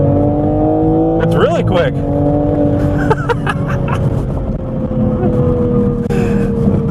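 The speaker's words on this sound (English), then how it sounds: "You get a nice forced induction noise." A 2021 Toyota Supra GR 3.0 Premium with a turbocharged 3.0-litre engine accelerates hard. The engine roar is loud and steady throughout, with a rising pitch mid-clip, while someone talks over it.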